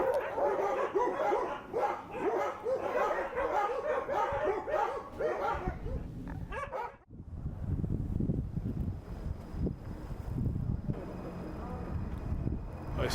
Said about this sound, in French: mis à part le bruit de fond des chiens